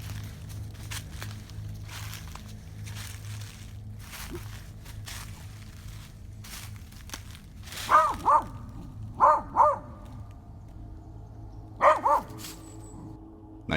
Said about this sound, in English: what's special about a dog barking at something in the woods?